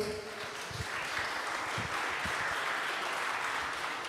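A conference audience at a chess and business strategy event gives a round of applause, a steady, moderately loud wash of many hands clapping at once that holds evenly for a few seconds.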